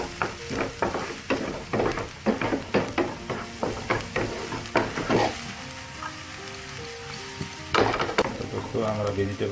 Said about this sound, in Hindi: वेजिटेबल को अच्छी तरह से सौटे करना होगा